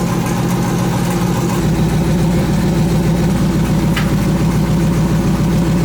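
Twin-turbo Chevrolet S10 engine running loud and close just after first start, a steady throbbing idle with a rumbling low note that deepens slightly after a second, continuing unbroken.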